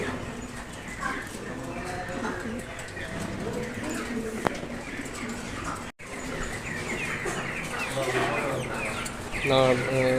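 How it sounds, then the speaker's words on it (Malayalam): Pigeons coo among live chickens at a poultry cutting shop in Sharjah that also holds broilers, country chickens, quail and rabbits, soft repeated calls and chirps mixed with other birds, while a person talks over them much of the time. "പ്രാവുണ്ട്, കോഴിയുണ്ട്"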